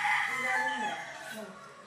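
A gamecock rooster on a game farm in Bauang, La Union crows once, loud and near, its drawn-out call falling away over about two seconds.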